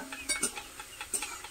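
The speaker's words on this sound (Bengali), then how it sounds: "এবার এর মধ্যে পটলটা দেব।" Pointed gourd (potol) pieces going into a pan of cooked spice paste, giving a quick series of light clattering taps and scrapes, close and moderately quiet.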